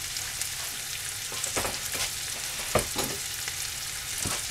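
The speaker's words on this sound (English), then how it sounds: "This is one sweet potato that I'm going to saute up in some butter and avocado oil for my husband." One sweet potato sautéing in butter and avocado oil, a steady close sizzle broken by several sharp stirring scrapes and taps.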